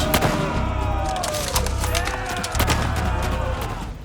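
Gunfire rings out in a battle between Qing and French soldiers: dense, overlapping rifle shots crackle in rapid bursts, sharp and close, over a low rumble with shouting mixed in.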